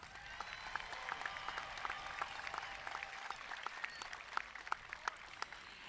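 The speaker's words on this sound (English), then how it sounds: "Please give them a round of applause." Applause at a high school graduation ceremony, a steady wash of many hands clapping from a large crowd, fairly distant and faint, holding evenly for several seconds.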